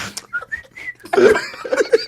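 Someone whistles a few short, bright notes up close, followed by breathy laughter-like sounds and more whistled chirps at the end.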